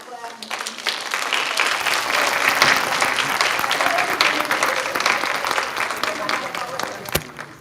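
Audience applause at a dementia-care talk on laughter, a dense, steady wash of many hands clapping that holds for several seconds before tapering off near the end.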